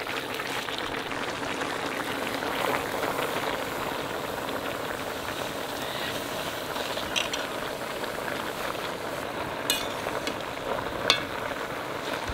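Potatoes, vegetable stalks and leafy greens cook together in a small kadai for a home-style vegetarian dish. A steady bubbling sizzle runs unbroken for the whole stretch, close and even, with a few faint clinks near the end and no talking.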